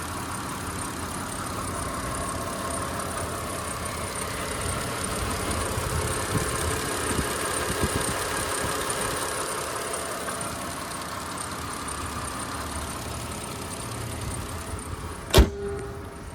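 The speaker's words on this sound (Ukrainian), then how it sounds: "як працює двигун." A 2008 Mitsubishi Pajero Wagon 3.0 engine running on gas/petrol idles with a steady low rumble for a long stretch, ending with a sharp click near the end.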